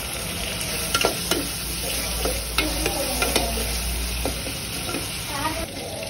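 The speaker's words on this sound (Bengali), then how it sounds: "দিয়ে আমি মশলাটা ভালো করে কষিয়ে নিচ্ছি" Ginger, garlic and onion paste masala frying in a pan sizzles loudly and steadily, punctuated by repeated clacks and scrapes of a spatula stirring it close up.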